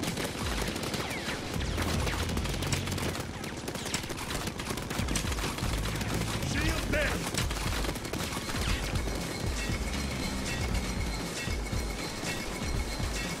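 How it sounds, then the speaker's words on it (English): Sustained automatic gunfire from a turret in Payday 2's Biker Heist, rattling loud and dense throughout with no let-up, layered with other combat noise. "And a turret that keeps shooting, so I cannot get my armor back."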